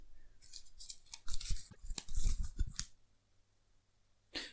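Playing cards being shuffled back into a deck during a solo Marvel Champions card game, a quick burst of riffling and flicking for about two seconds, then near silence and a brief final rustle.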